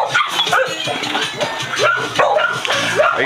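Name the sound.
dogs barking at an animal shelter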